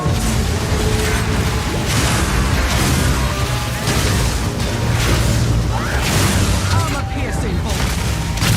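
A crossbow in the Path of Exile 2 video game fires permafrost and incendiary bolts: a dense run of mechanical clacks, booms and impact bursts over a busy, loud combat soundscape, almost without pause.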